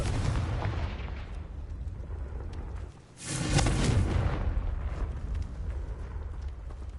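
The Confringo spell in Hogwarts Legacy sets off a single, sudden fiery blast midway through. A brief dip comes just before it, and a low rumble continues on either side.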